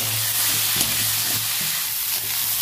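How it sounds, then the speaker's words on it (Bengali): Pieces of amra (hog plum) with salt, turmeric and chili fry in a pan, giving a continuous close sizzle with faint stirring and no voices. "ভালো করে ভেজে নিয়েছি,"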